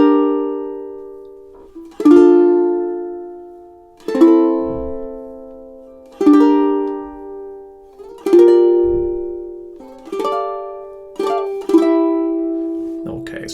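A high G ukulele and a baritone ukulele play a funk rock duet riff together: plucked chord stabs and melodic notes in a steady syncopated rhythm, each attack ringing and decaying, close and clear with no talking.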